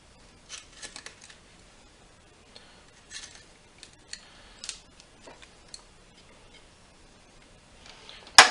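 Cutting out the hole for a camper vent fan, heard as faint, scattered snipping and ticking cuts with quiet gaps between them, ending in a louder scrape.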